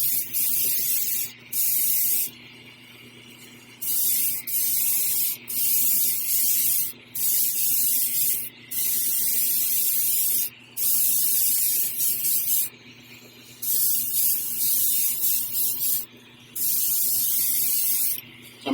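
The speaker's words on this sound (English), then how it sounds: "So I'm opening the airbrush pretty wide and just fanning this on" Airbrush opened wide, fanning paint across a quarter-scale beast prototype model: a steady airy hiss in repeated bursts of a second or two, separated by short pauses, close and fairly soft with no talking.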